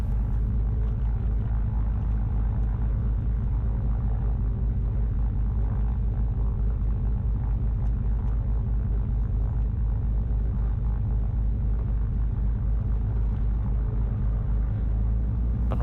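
Twin-engine Cessna at the runway run-up area, both piston engines running with a steady, loud, low rumbling drone that holds without break throughout.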